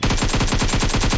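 A rapid, loud burst of automatic gunfire from PUBG Mobile, with evenly spaced shots rattling without pause for the whole short span.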